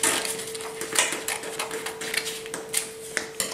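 Scissors snip around a paper Santa Claus cutout in a quick, irregular series of crisp close cuts, with a steady faint hum underneath.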